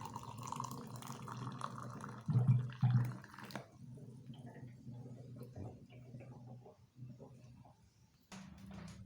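Hot water is poured over dried bidara leaves in a glass, a gentle splashing trickle that swells briefly, then fades to a quiet pour with light background sounds.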